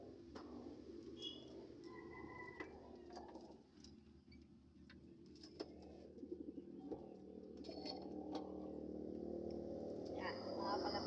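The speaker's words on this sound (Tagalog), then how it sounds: "Papakita ko sa inyo yung mga kalapati ko" Pet pigeons, including a grizzle, coo softly and intermittently inside a loft, with scattered bird calls over a steady background hum.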